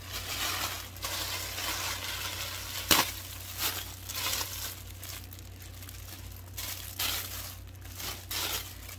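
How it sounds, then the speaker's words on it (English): A small package being ripped open by hand during a shopping haul unboxing, giving crinkly plastic tearing and crumpling sounds at close range, with one sharper rip partway through and rustling continuing throughout. "I should just be able to rip it open"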